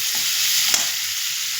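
Bitter gourd and potato being stir-fried in a wok, with a steady, loud broadband sizzle throughout and a brief sharper hiss of stirring near the middle.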